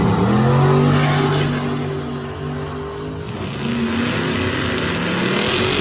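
Turbo Zephyr drag car making a run down the strip, a loud sustained engine roar with a rising tone that dips slightly midway, then surges again, heard without talk.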